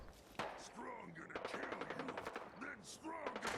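Gunfire in Fallout 4 against super mutants, with a sharp shot followed by a rapid burst of repeated firing, under and between a man's quiet speech.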